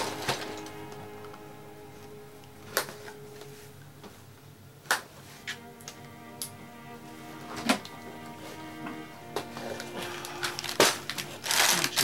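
Lego Battle of Endor set packaging being cut and opened, with scattered crinkling plastic and cardboard crunches, sharp ticks and clacks at irregular intervals, close and moderately loud with no talking.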